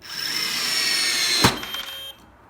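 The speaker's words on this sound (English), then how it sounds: "I expect the drill will run a little bit slower now on a lower torque setting" A Festool PDC 18 cordless drill drives a screw into wood on a low torque setting, whirring steadily at close range, then a short sharp crack as it binds, followed by a lower, slowing whine before it stops.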